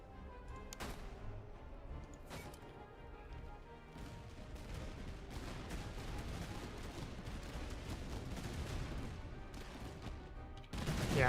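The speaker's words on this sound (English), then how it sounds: "so they fired, brief reload, and then they're firing again" Prussian grenadiers firing musket volleys in the Master of Command game, scattered distant cracks building into a dense rolling crackle of gunfire, with a louder burst at the end.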